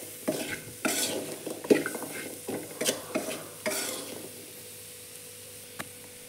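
Boiled chickpeas for sundal being stirred into a sizzling pan, a spoon scraping and knocking in irregular strokes that fade to quiet frying near the end, close and moderately loud, with no talking.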